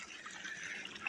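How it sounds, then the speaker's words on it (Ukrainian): Water gushes from a hose to top up a garden pond in winter, after a thaw has freed the frozen hoses. It makes a steady, close, fairly quiet hissing splash with no pauses. "розмерзлися повністю всі шланги і доповнюємо воду"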